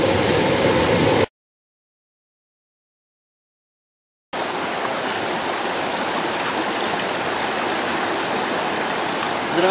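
Water running slowly through a Jason Gold sluice box without its upper riffle traps, a steady close rushing wash that cuts out briefly and then resumes evenly.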